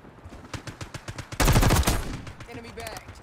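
Hip-fire gunfire in Call of Duty Black Ops 6, a rapid string of loud, close shots in a steady rhythm. A heavier blast lands midway and is followed by a few scattered trailing shots.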